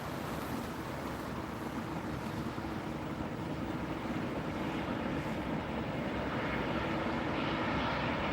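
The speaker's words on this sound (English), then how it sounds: "Now here comes another airline that I know pretty well from Manchester Airport" An Aegean airliner taking off from runway 27R at Heathrow Airport, with a steady, broadband jet engine roar that holds continuously and builds slightly toward the end, heard from a distance.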